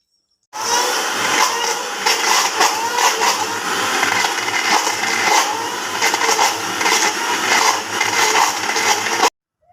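An electric mixer grinder runs with its lid open, grinding soaked lentil dal into batter for nakshi bori. The motor whirs loudly and steadily for about nine seconds, then stops abruptly.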